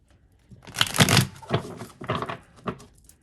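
A deck of tarot cards is shuffled close by in several quick riffling bursts, crisp papery flutters with brief gaps between them and no talk over them.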